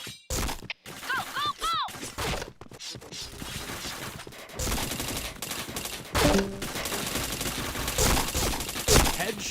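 Rapid bursts of video game gunfire with sharp cracks and automatic volleys, loud and close, mixed with clattering impacts and brief pauses.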